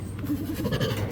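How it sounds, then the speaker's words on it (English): A Bengal tiger at a wildlife sanctuary chuffing a greeting, a run of soft, low, breathy pulsing snorts repeated close by over a steady background. "That noise you hear her making, it's called chaffing. It's how tigers say hello to one another."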